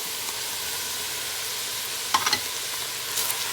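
Chopped carrots and celery sizzling steadily in a hot heavy-bottomed pot for lamb stew, a close, even hiss of frying throughout with a few brief stirring clinks near the end and no talking.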